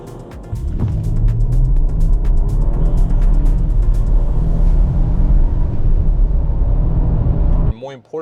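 2025 Nissan Armada with a twin-turbo V6 accelerating hard, a loud, sustained low engine roar heard from inside the cabin that stays steady for several seconds before cutting off abruptly.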